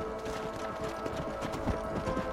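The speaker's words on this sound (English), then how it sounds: "Stay with the horses." Horse hooves clip-clop steadily in Red Dead Redemption as a rider guides a herd toward a canyon, a close, continuous rhythmic patter of several hoofbeats over open-range ambience, with no talk.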